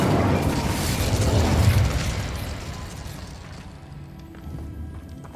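Incendio fire spell cast in the Hogwarts Legacy video game, a loud fiery burst with a booming rush that swells over the first two seconds, then fades into a lower rumbling tail.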